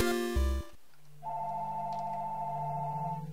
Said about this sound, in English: Thank you, phone, for ringing.